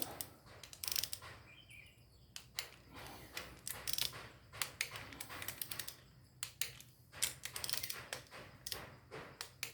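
A torque wrench ratchets on the water pump cover bolts of a Honda CRF250L, producing faint, close, rapid clicking bursts in a quiet workshop.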